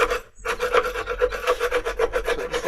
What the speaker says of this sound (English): So for scraping the box, what we're trying to do is we're trying to get as much of the propolis off as possible